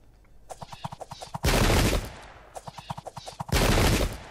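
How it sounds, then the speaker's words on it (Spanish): Musket volleys crack out in the Sengoku Jidai strategy game: a rapid run of separate shots builds into two dense, roaring fusillade bursts, each lasting about half a second, loud and close with no talk over them. "otra carga de disparos importante aquí"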